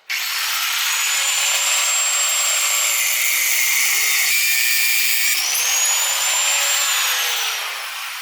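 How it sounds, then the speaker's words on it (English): A power tool cuts off the pad of a Honda Shadow motorcycle brake lever, a loud, steady high-pitched whine that starts abruptly, shifts pitch midway, and tapers slightly at the finish. "First thing I'm going to do is I'm going to cut off the actual pad here for the brake lever."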